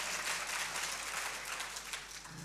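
Faint, distant crowd applause at a literature festival in Sukkur, a continuous wash of clapping held at an even level through the brief stretch.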